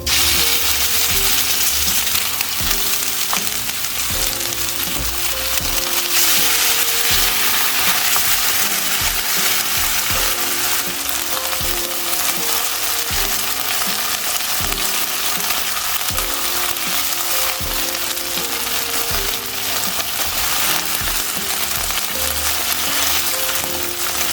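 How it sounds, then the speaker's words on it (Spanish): Pork pieces for sweet and sour pork fry in very hot oil, giving a loud, continuous, steady sizzle and crackle with occasional faint clinks. It runs for the whole stretch with no talking. "Ya cuando el aceite esté bien caliente, bastante caliente, podemos empezar a poner la carne."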